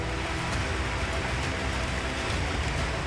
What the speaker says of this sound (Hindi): यहाँ कई दिनों से मूसलाधार बारिश हो रही है